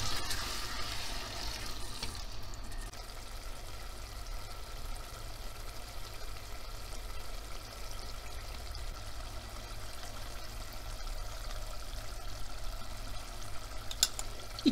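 Tomatoes frying on top of roasted tomato paste in a pan, giving a steady, quiet sizzle that holds evenly throughout with no talking.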